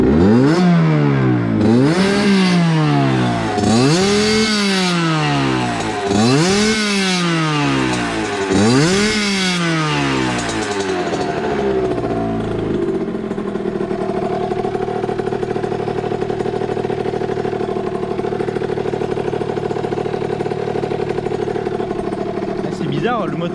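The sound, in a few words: motorcycle engine revving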